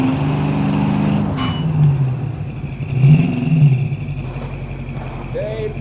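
A garbage truck engine in the video game Far Cry New Dawn rumbles steadily and close throughout, with low revving swells and some mechanical clatter, heard under someone talking.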